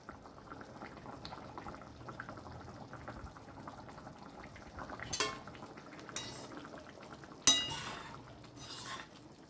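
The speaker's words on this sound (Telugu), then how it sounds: "పులుసు ఆల్రెడీ మనకు మసిలింది కాబట్టి చేపలలో కూడా మసిలితే మనకు మంచిగా వస్తుంది" Telugu-style Apollo fish curry (chepala pulusu) simmers in a pot with a soft, continuous bubbling. A few louder clinks and scrapes of a utensil against the pot come near the end, and no one speaks.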